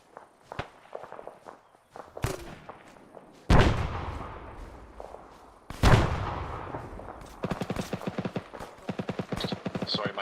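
Grenade blasts and gunfire in a military shooter game: two heavy booms stand out, then rapid bursts of shots near the end, amid footstep-like shuffling and some faint voices.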